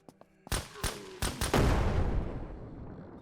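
A grenade goes off in the zombie-survival game SurrounDead. A few sharp gunshot cracks come first, then a heavy, booming blast with a long rumbling tail, fairly loud and close.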